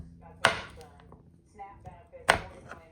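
A knife chops through frozen, hard ginger root on a board, giving two sharp, loud chopping strikes about two seconds apart with quieter handling noise between.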